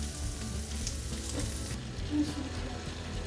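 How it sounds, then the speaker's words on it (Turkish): Butter heated hot in a pan for iskender kebab, a steady close sizzle and crackle with a brief louder spatter partway through. "Tereyağımı iyice kızdırdım bakın."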